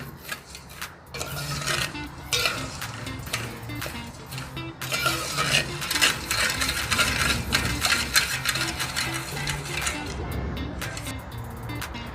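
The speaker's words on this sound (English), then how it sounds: "Stir it till the sugar dissolves." A spoon stirs sugar and water in a pot for syrup, giving a continuous scraping, gritty rubbing with faint clinks, close and moderately loud, with no talk.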